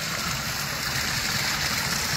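Pond water circulates steadily through a gravity-fed filter, giving a continuous close rush and trickle like a small stream, with no pauses or voices.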